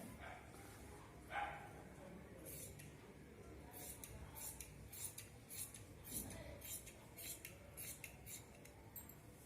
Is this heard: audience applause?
no